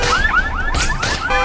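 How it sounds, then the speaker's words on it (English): Several car alarms wail together in a loud, continuous jumble of rising and falling electronic whoops and chirps, overlapping with no pause. "let's see what a cacophony of car alarms sounds like."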